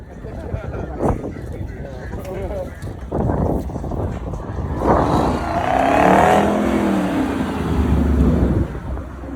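At a park-and-chill car meet, a car revs its engine and spins its wheels in a rising, roaring burst, with tire noise building mid-clip, while people talk and shout nearby throughout.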